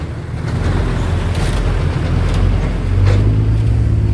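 A car's 195 engine revs steadily and loudly nearby, its low drone rising a little toward the end, with no talk.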